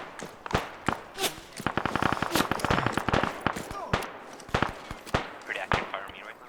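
Gunfire in an Arma 3 jungle battle crackles as sharp, irregular shots, some in rapid bursts, heard close to middling distance while players talk over it.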